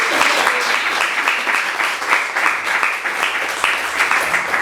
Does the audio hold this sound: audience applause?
yes